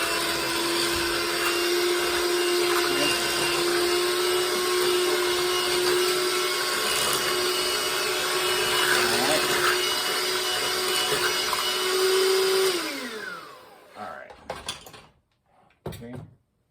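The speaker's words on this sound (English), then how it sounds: "Okay, get your mixer in there. Turn it on." An electric hand mixer whirs steadily through butter and sweet potato filling for empanadas, a loud, close, high-pitched motor whine that holds for about twelve seconds before cutting off, followed by a few clunks and rattles as the mixer is handled.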